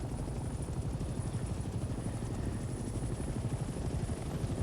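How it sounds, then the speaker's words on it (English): A helicopter in the Vietnam-era combat video game Hell Let Loose: Vietnam makes a steady, continuous rotor chop and engine drone, moderately loud and without any talking. "Look at the helicopter, man."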